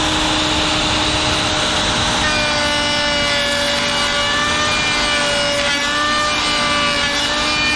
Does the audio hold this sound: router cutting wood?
yes